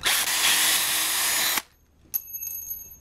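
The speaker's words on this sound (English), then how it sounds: "Just gonna drill right there." A power drill whines loudly and steadily for about a second and a half, making a hole while building an improvised airsoft mine, then stops; faint clicks and handling noises follow.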